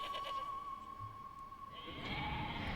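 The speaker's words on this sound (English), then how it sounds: "It's the fucking sheep." A sheep bleats in the Okami HD video game, a wavering tone held over a soft game backdrop before brighter, louder game sounds take over.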